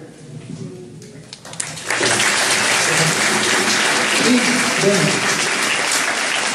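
An audience at a jazz festival concert bursts into loud, sustained applause after a quieter moment, clapping densely and evenly until the end.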